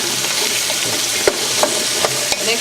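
Beets being stirred in a hot pan with onions and garlic make a steady close sizzle, broken by a few light scraping clicks from the spoon.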